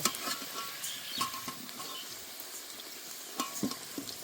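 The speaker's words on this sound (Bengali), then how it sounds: "আলুগুলো ভালো করে ভেজে নিয়েছি" Potatoes frying in hot oil with salt and a little turmeric, a steady close sizzle broken by occasional stirring scrapes and light pattering pops, with no voices.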